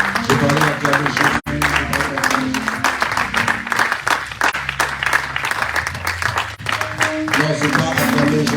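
A church congregation applauding and cheering for Jesus during a worship service, with sustained steady clapping and crowd noise over music throughout, interrupted by a couple of brief sharp thumps.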